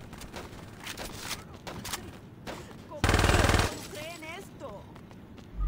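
Rapid automatic gunfire from a weapon in the video game Saints Row 2, a loud, dense burst of shots lasting under a second, framed by quieter game sounds and someone talking before and after.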